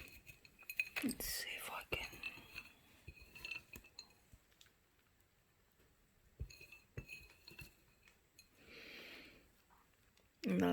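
A spoon clinks and scrapes against a glass trifle dish in a few light, scattered taps, close and fairly faint, mixed with soft handling noises while a person murmurs quietly nearby.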